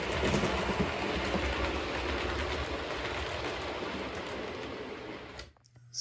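A model train runs along a scenery layout with a steady, rumbling mechanical whir and faint rhythmic clicking of wheels on track, continuous and fairly close, then cuts off abruptly near the end.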